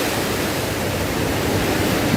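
Sea waves at Kappil Beach where a river meets the Arabian Sea, a loud, continuous roar of surf mixed with wind noise, with no voices.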